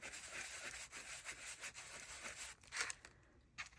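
Rose gold Sizzix luster wax is rubbed and scuffed onto paper in a junk journal, making faint, close, dry rubbing strokes in a quick irregular rhythm.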